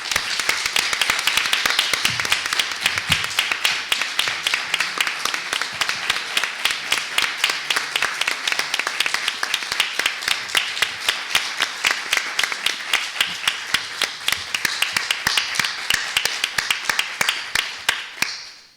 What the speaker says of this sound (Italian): inviterei la platea a un nuovo applauso